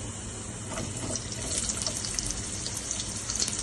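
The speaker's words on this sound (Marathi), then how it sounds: "तेल चांगलं तापलंय आहे तर कांदा टाकून घेते" Chopped onion dropped into hot oil in a pan for a Maharashtrian colocasia leaf curry, giving a dense continuous hissing sizzle, fairly loud and steady, with no voices.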